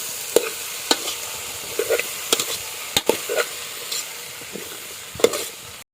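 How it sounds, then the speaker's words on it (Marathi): Jackfruit vegetable being stir-fried in a pan, with a spatula scraping and tossing in irregular strokes over a soft background sizzle, close and clear with no voices. "तेच परतून घेऊया."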